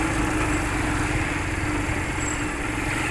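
A motorcycle engine without gear shifting runs steadily at close range, a continuous buzzing drone with no break and no talk over it.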